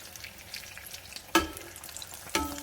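Apple fritter dough bubbles steadily in hot frying oil, a close, even sizzle broken by two sharp clicks of a utensil.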